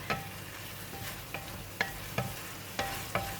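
Cauliflower with curry powder sizzles in a hot pan as a utensil scrapes and tosses it in regular strokes, about one every half second, close and without talking.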